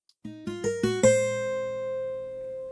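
A few picked acoustic guitar notes ring out in quick succession, the last one sustaining and slowly fading, clean and close.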